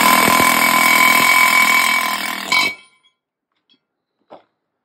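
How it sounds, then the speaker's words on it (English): A valve guide liner is driven out of a cylinder head with a valve guide driver: a loud, close, steady mechanical buzz lasting under three seconds, then an abrupt stop into near silence broken by a couple of faint taps. "Pushes out, valve guide liner is removed all at the same time"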